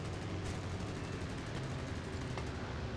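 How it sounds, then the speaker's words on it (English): Four machine guns of a Gloster Gladiator Mk2 biplane in War Thunder fire in one continuous dense burst, a steady loud rattling roar that lasts throughout with no talk over it. "Oh yeah, all four guns are firing."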